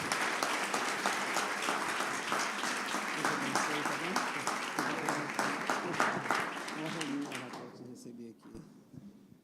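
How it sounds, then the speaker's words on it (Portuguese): A church congregation applauds at an evening worship service, dense sustained clapping filling the room for about eight seconds before thinning out and fading to near silence. "Queria que você aplaudisse a Deus pela vida do Gustavo."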